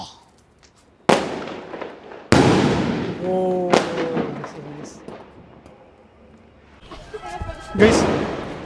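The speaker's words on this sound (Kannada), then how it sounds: "ಯಾರು ಪಟಾಕಿ ಹೊಡಿಯಕ್ ಹೋಗ್ಬೇಡಿ" Several sharp Diwali firecracker bangs burst at irregular intervals, each loud and close with a quick fading tail, with voices in between.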